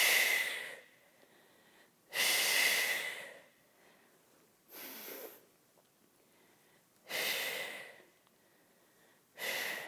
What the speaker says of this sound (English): So inhale down, exhale, come on up.